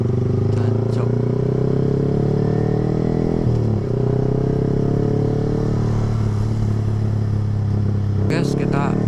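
A Yamaha R15 V3 sport motorcycle accelerates hard at full throttle on a road ride, its engine droning loud and close with rising and shifting pitch, and a voice talks over it.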